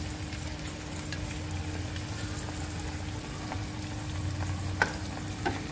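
Chopped onions and curry leaves fry in plenty of oil for prawn thokku, giving a steady, dense sizzle throughout with a few faint stirring scrapes and one brief louder clink near the end.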